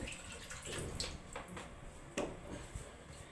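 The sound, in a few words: washing a stone grinding slab (shil) with water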